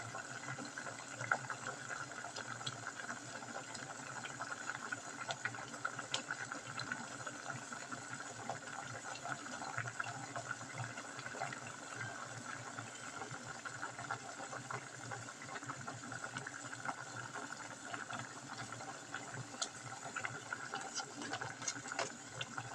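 A steady bubbling, churning rumble of water boiling in a pot for chicken and sour bamboo shoot curry, continuous and fairly close, with no voices over it.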